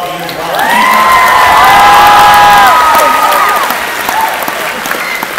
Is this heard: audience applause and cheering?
yes